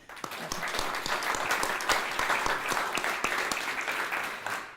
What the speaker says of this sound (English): I'm going to just take a moment and ask everybody to applaud the entire production